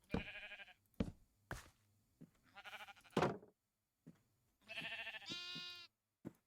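Sheep in Minecraft bleat again and again, short quavering calls broken by sharp clicks and knocks, near and distinct with silent gaps between them and no speech.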